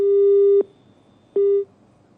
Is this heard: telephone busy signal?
yes